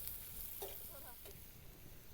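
A large chopped onion fries in a pan for vegetable bhurji, giving off a faint, steady sizzle with no voices.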